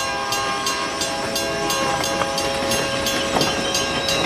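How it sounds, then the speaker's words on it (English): Railroad cars rolling steadily past at a rail crossing, a continuous loud rumble with faint rhythmic clicking of wheels over track joints, close by and with no talk. "When I saw the train hit the car,"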